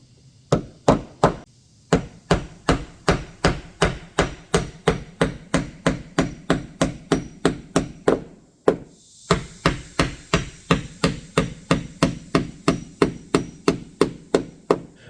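Nails are hammered into new deck boards at an angle over the joists: dozens of sharp, evenly spaced hammer blows land in quick succession, close and crisp, with two brief pauses between runs of strikes.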